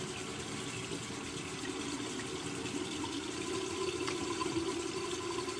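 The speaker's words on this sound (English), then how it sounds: "I'm going to rinse my face just a little bit here" Tap water runs steadily into a sink while a face is rinsed after a wet shave, a continuous close hiss and splash with slight changes in the flow.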